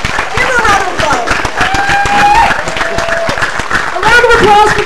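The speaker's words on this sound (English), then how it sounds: "Give her a round of applause." An outdoor crowd at a Pride flag raising in St John's, Newfoundland claps and cheers, a dense mid-level patter of hands with whoops. Voices and shouts carry over the applause.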